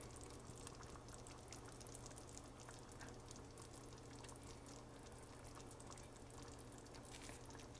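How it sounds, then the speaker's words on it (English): Penne alla vodka sauce, a creamy red tomato sauce, bubbles and simmers steadily in a pan, a soft continuous sizzle and pop heard close up with no talking. "It's making the most lovely bubbling sound."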